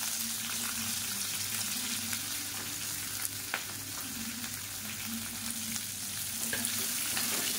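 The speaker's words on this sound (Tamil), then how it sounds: "இப்போ பாருங்கள், எல்லாமே நல்லா பொரிய ஆரம்பிச்சிருச்சு." Asafoetida, curry leaves, green chillies and chopped onion fry in hot oil, giving a steady close sizzle with faint occasional stirring clicks and no talk.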